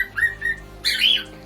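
A pet cockatiel parrot sings indoors, giving a couple of short whistled notes and then a louder, rising squawking warble, close and clear with no voices.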